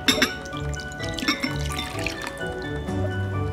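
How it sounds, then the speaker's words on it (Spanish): Warm water is poured into a bowl for pan de muerto dough made with pulque, a steady close liquid stream with bubbling drips lasting a few seconds under some background clatter. "es poner el agua tibia en este bol"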